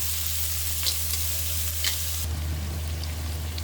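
Chopped onion and green chili fry in hot oil, giving a loud, continuous sizzle with a couple of stirring scrapes over a low electrical hum.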